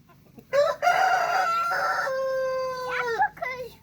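A pet rooster crows close by in a chicken garden, one long loud harmonic call with a rising start and a drawn-out falling end, followed by a short clucking tail.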